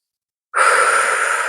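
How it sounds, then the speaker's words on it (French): After a moment of silence, one loud, close, deep breath is drawn in through the nose during yoga breathing in a beginner barre session. The breath is a steady airy rush that lasts about a second, with no talking. "On inspire par le nez."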